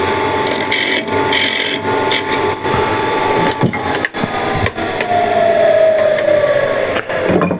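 A gouge cuts a spinning piece of wood on a lathe for a woodturning chuck job, giving a continuous scraping, shaving rasp with a tone that shifts partway through, close and loud.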